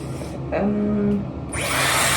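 A Dyson Airwrap styler blows air while drying hair, a steady close whooshing hiss that swells louder near the end, with a faint brief tonal hum partway through.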